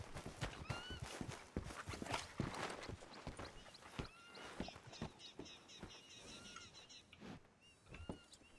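Horse hooves clip-clopping at a walk with several neighs and whinnies in the western video game Red Dead Redemption (RedM), busy and continuous over ambient game sound, no talk.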